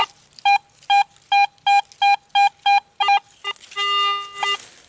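A metal detector gives a series of sharp, evenly spaced electronic beeps about eight times, followed by a longer, warbling high target tone; loud and close.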